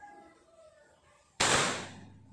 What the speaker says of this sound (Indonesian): Kita mencoba di sini satu tembakan dulu.